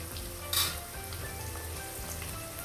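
Mixed vegetables frying in oil for veg fried rice: a steady, close sizzle runs throughout, with a brief louder crackle early on, and no talking.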